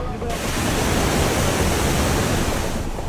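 Strong rushing floodwater pours through Wawa Dam in Rizal during a typhoon, a loud, continuous roar of churning water that stays steady throughout.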